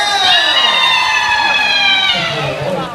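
A game-show audience cheers and shouts for a correct answer, a loud, continuous burst of crowd voices with excited high-pitched yells that fades slightly toward the end.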